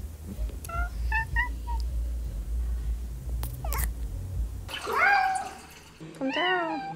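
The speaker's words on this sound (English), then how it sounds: "he meows like a 5-day-old kitten" A big, fluffy cat meows in a thin, high voice like a newborn kitten; two short meows come near the end after some faint chirps and low background rumble.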